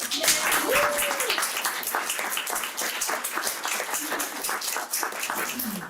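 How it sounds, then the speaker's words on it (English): A school board meeting audience claps for an honoree, with distinct individual claps in a steady crowd patter and a brief voice beneath the applause. "let's give Lynn a round of applause"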